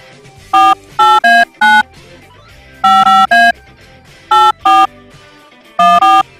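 Push-button telephone dialing a classroom number: crisp, loud DTMF tones in quick bursts of two to four beeps separated by short pauses, no talking.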